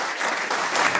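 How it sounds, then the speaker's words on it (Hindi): Applause from an audience at a business seminar in Indore, a steady, full wash of many people clapping together, loud and close throughout. "इनके लिए एक बार जोरदार ताली होना चाहिए।"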